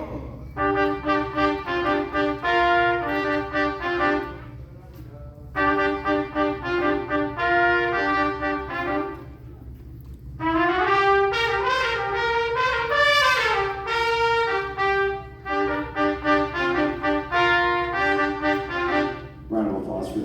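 A sixth grade middle school band plays a piece at a recognition concert, sustained brass and woodwind chords in separate phrases with short pauses between them and a rising, swelling passage in the middle.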